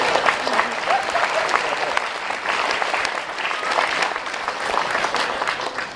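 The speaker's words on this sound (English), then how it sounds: "Round of applause for Noel." Steady crowd applause fills the room for the bride at a wedding reception in Hawaii, dense and sustained clapping from many guests throughout with no pauses.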